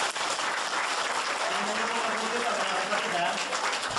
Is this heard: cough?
no